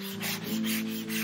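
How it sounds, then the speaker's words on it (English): Wood being sanded smooth by hand with fine 320 grit sandpaper on a shelving hat and coat rack, a close, steady rasping rub that runs continuously without pause. "go over it with that 320 and try to get some of that roughness off of it"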